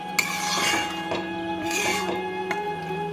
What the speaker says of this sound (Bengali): লঙ্কা আছে বলে আমি চামচ দিয়ে মাখাচ্ছি